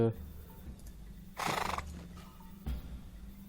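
A horse whinnies at the stables in Lord of the Rings Online, one clear neigh in the middle over a steady game backdrop, followed by a shorter snort.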